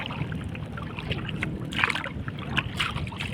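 Wind blowing steadily across a small paddled fishing boat at sea, a low rumbling gusty wash with faint splashes and paddle knocks scattered throughout, no talking.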